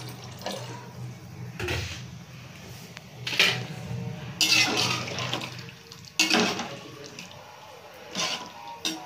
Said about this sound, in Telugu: ఇప్పుడు రైస్కి తగ్గట్టుగా వాటర్ వేసుకోవాలి.